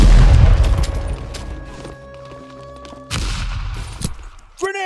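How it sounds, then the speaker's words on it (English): Grenade blasts and gunfire in a shooter video game: a heavy low boom opens, followed by rumbling battle noise, a second sharp burst near the end, and brief voices mixed in. "Grenade!"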